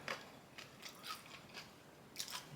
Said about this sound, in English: I don't know if you can hear that crunch, but it's perfect.